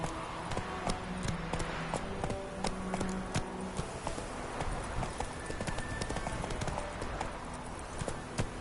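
Roach, the horse in The Witcher 3: Wild Hunt, gallops with rapid, rhythmic hoofbeats pounding steadily and close throughout, over faint ambient game sound.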